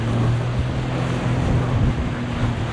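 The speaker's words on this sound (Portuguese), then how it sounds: "Ó, ó as ondas, mano." Ocean waves wash in a continuous, loud rush, with wind buffeting the microphone and a low engine-like drone beneath, heard from a boat moving fast on the sea.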